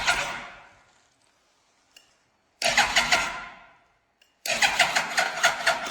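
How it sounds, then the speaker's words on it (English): A scrapped junkyard Yamaha R1 sportbike engine is started nearby: it fires with a sharp roar that dies away, then after a quiet gap bursts into life again twice more, each run loud and rough. "I am ready to start testing to see if there is high voltage and how the engine's cylinder pressure is."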